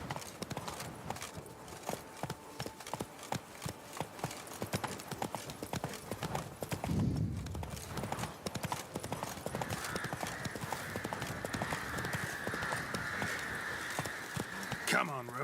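Hooves of Roach, the horse in The Witcher 3, pound in a steady galloping clip-clop throughout, loud and close, with a brief whinny partway and a voice talking over the ride.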